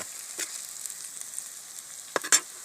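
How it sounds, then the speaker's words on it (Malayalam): Curry leaves dropped into hot oil in a pan for a Kerala fish curry, giving a steady quiet sizzle with brief scraping stir sounds near the end, no voices. "കറിവേപ്പില ഇട്ടിട്ട് അതൊന്ന് ഇളക്കാൻ ശ്രമിക്കുകയാണ്."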